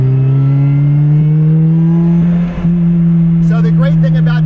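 A Lotus Exige S engine hums at a steady idle-like drone, then a rougher, rising burst near the end as it accelerates, close and loud.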